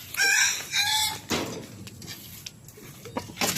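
A chicken on a small backyard poultry farm gives a loud, close crow, followed by softer clucks and scattered farmyard noises.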